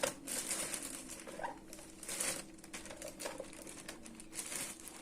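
Soft, close crinkling of a thin plastic freezer bag being filled with chopped red peppers, in short irregular bursts of rustling with brief pauses between.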